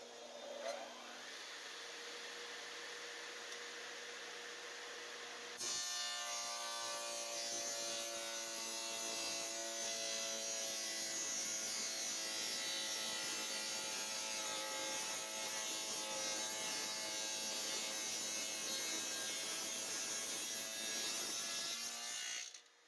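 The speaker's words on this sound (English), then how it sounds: "this is probably the heaviest load this dado cutter is ever going to be asked to do" A dado cutter chews through 3/4 inch plywood in one long, loud, continuous grinding whine that runs over twenty seconds, with a brief lower motor hum before the blade bites in.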